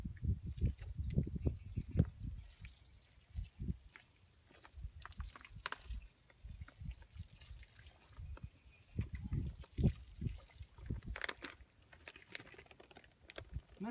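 Granular Big & J Meltdown mineral poured onto the ground outdoors, an uneven run of gritty patters and soft rattling bursts that rise and fall in clusters.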